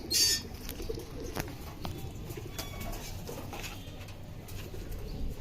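Soft cooing of tumbler pigeons mixed with wing flutters and rustling, fairly close, over a steady low background hum; a brief louder burst at the start.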